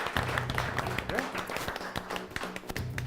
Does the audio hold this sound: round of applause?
yes